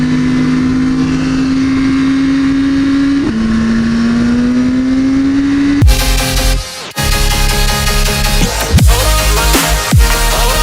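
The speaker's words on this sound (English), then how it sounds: "Another Ferrari right there." Ferrari sports car engine at a busy street, a steady high drone shifting pitch, then loud close revving bursts with sharp throttle blips and a pass-by, no talk.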